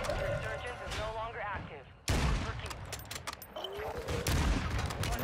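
Sniper rifle shots in Call of Duty Warzone on Ashika Island, sharp sudden cracks amid game noise and gunfire, a hard blast near the middle, with a player talking over it.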